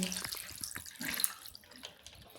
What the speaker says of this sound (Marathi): हे बघा, यात मी हे पाणी टाकते.